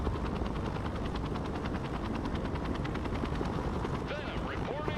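A helicopter lands in the Broken Arrow military strategy game, its dense rotor chop thudding steadily under gunfire-like crackle, with a quick rising whine near the end.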